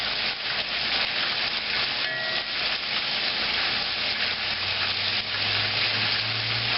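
Chicken pieces frying in oil for crispy fried chicken, a steady loud sizzle that runs unbroken throughout, with a low hum rising toward the end.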